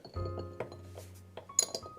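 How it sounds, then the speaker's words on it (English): Ice cubes drop into an Old Fashioned cocktail glass, giving a few quiet clinks and a brighter glassy chime near the end, close and faint. "now dropping the ice in"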